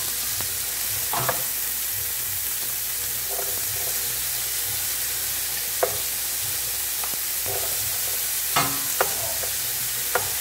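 Bell peppers hit a very hot pan with garlic while cooking rice with chicken thighs, giving a steady close sizzle and frying hiss with a few sharp clinks of stirring scattered throughout.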